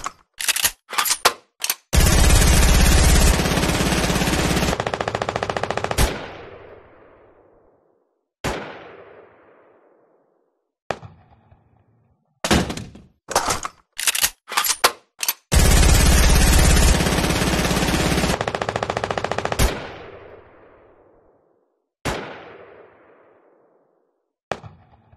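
P90 submachine gun firing in the video game Fortnite, several long automatic bursts and short rapid volleys with ringing tails, loud and punchy with silent gaps between.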